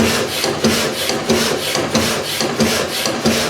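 A tool and cutter grinder machines cast iron with a continuous harsh, gritty rasp that pulses about every half second, loud and close throughout, with no one talking.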